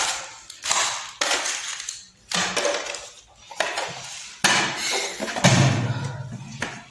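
A plastic cover is pressed onto a Hindware wall-hung concealed cistern, producing a series of loud, close plastic clacks, knocks and snapping sounds in irregular bursts.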